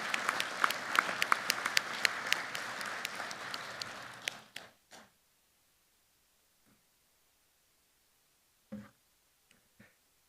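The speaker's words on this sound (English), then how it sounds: "let's give everybody a big round of applause" An audience at a national board meeting in Orlando applauds loudly for about four seconds, then the clapping dies away into near silence broken by a few isolated claps.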